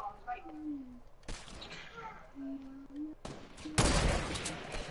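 Bursts of gunfire in an online shooter video game, a few sharp shots early, then a dense rattling volley near the end, with people chattering and game sounds between the shots.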